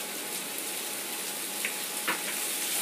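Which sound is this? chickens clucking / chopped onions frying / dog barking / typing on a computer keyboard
chopped onions frying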